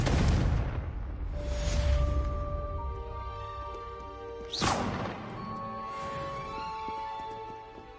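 A Confringo blasting curse explosion in Hogwarts Legacy: a loud crashing blast at the start, followed by ringing magical tones and a second sharp, whooshing burst midway, with no talk.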